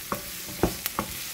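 Carbonara ingredients, including mushroom, are stirred in a pan, giving three or four soft scraping knocks of a utensil over a faint sizzle in a short, close burst.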